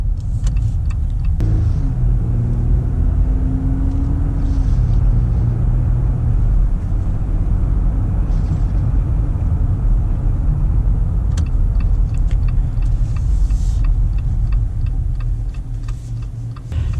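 Loud, steady low-pitched engine and road rumble from inside the cab of a 2020 Jeep Gladiator Sport with a 3.6-liter V6, accompanied by faint ticking, with no talking.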